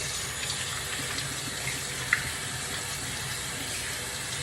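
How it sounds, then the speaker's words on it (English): Tap water running steadily into a sink during handwashing, a constant close splashing hiss with one small clink partway through. "Get some soap to wash your hands."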